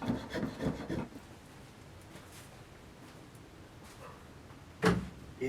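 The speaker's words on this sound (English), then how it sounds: "I then used a file to work down the knots and a spoke shave to finally work down the tenon to the right size" A file rasps against a wooden tenon on a Roman bench leg, a few quick rubbing strokes up front, then near quiet before a single sharper scrape near the end.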